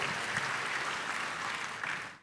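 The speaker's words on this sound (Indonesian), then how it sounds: "Tepuk tangan yang paling meriah buat Tuhan." Congregation applause fills a church service at Gereja Tiberias Indonesia, a dense, steady wash of many hands clapping together that holds loud for about two seconds and then tapers away.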